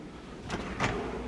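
A self-closing kitchen drawer glides shut with a soft sliding whoosh and then a muted thud, two brief close-up sounds within a second.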